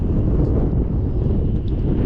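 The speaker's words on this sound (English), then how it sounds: "It's really windy out here today." Strong wind blowing steadily outdoors over a garden, a loud, continuous buffeting roar across the mic with no pauses or talk.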